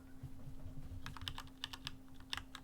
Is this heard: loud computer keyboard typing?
yes